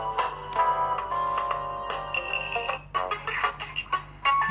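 An INOVO I618 smartphone plays its ringtone through its large loudspeaker at full volume, a loud, bright melodic tone pattern with repeated notes and chimes, heard alone at close range.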